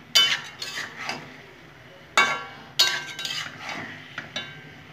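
Stirring kofir data (cauliflower stem) chochchori in a pan with a metal spoon: several sharp scraping clinks against the pan, with two or three louder strokes among softer taps and faint frying underneath.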